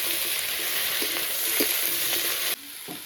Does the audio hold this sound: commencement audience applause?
no